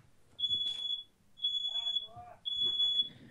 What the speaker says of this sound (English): Someone's alarm's going off.